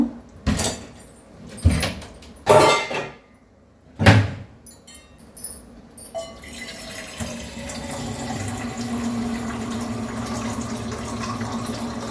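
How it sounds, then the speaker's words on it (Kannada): In a home kitchen, a tap runs steadily to fill a glass with water for heating, after a few sharp clatters and knocks of handling utensils nearby. "ನಮ್ಮ ಮನೆಯವರಿಗೆ ಒಂದು ಗ್ಲಾಸ್ ನೀರನ್ನ ಕಾಯಿಸ್ಕೊಡ್ತೀನಿ ಈಗ"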